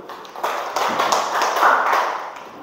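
Students in a classroom give a short burst of applause, a soft patter of many hands clapping together for about two seconds, fairly close and without talk.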